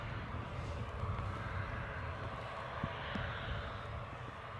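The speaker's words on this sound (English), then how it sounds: "Aircraft." An aircraft at Newcastle airport makes a steady, distant jet engine roar that holds at a constant faint level throughout, with no talking.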